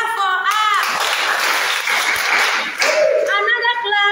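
A small group claps for a child at a birthday celebration: a steady burst of applause lasting about two seconds, with speaking voices just before and after it.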